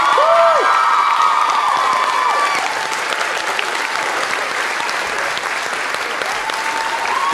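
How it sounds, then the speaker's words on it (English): Loud, sustained audience applause with some cheering and whoops at a high school stage performance's closing thanks, steady throughout and fading slightly after a few seconds. "But she's here tonight, so a round of applause for her as well."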